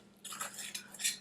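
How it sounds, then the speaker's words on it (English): A metal spoon scraping and clinking against a pot while stirring curry goat, a Jamaican dish, with a few close, moderately loud rattling strokes in short bursts. "Sorry for the noise that my spoon and my pot is giving."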